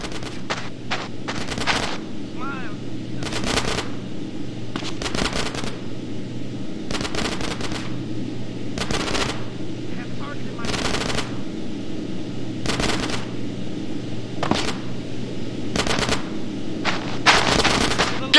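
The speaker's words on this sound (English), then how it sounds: "Get some suppressing fire in there!" Bursts of automatic gunfire in a Grand Theft Auto: San Andreas gang shootout, loud rapid volleys repeating in clusters over a low steady background hum for the whole stretch.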